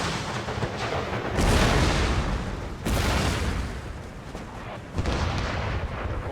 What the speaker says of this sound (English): the mortars are now bombarding